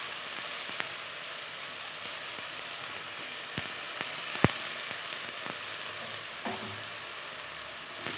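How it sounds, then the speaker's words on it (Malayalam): Ground coconut is poured into a sizzling choora tuna fish curry with tomatoes, making a steady moderate sizzle broken by sharp stirring clicks and scrapes of the spoon against the pan. "അതിലേക്ക് ഈ അരച്ച തേങ്ങ അതിലോട്ട് ഒഴിച്ചു കൊടുത്തു."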